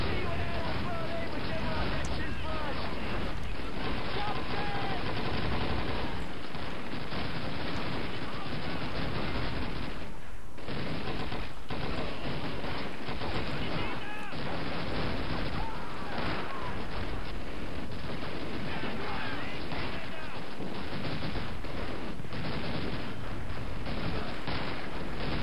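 MG42 machine gun fire in the Call of Duty 2 British campaign, sustained heavy bursts mixed with explosions and battle noise throughout, loud and dense, with voices speaking over the combat.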